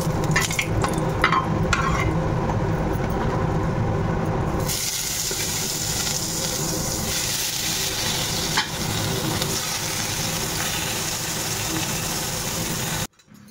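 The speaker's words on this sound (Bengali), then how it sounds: "বাটা মাছ আর বড়িটা ভেজে নিচ্ছি।" Bata fish and lentil dumplings frying in hot oil in a home kitchen pan, a loud continuous close sizzle that sharpens when stirred early on, then runs steadily until cutting off abruptly near the end.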